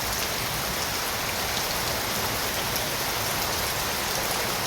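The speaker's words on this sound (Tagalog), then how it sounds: "Sobrang lakas ng ulan, no." Heavy rain pours steadily, a dense, loud hiss of drops drumming on surfaces with no pauses throughout.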